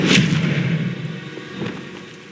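An Expelliarmus spell cast in Hogwarts Legacy, a loud cracking blast at the start that decays into a rumbling tail, with a softer second hit following.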